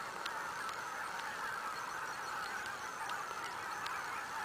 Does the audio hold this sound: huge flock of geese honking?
yes